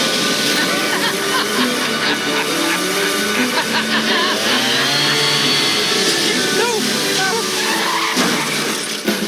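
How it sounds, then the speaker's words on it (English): An overpowered, not street-legal leaf blower from a television advert, a loud continuous roaring engine whine with rising and falling pitch and squeal-like sweeps, running for several seconds. "I'm an overpowered leaf blower, and I'm not exactly street legal."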